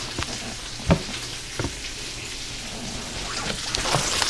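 A couple of mushrooms fry in an oiled pan, a close crackling sizzle with scattered pops and spits, rising slightly toward the end with no talking.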